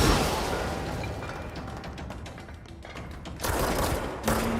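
Bursts of rapid gunfire crackle amid booming, echoing combat noise in the video game Alan Wake's American Nightmare, with louder volleys near the end.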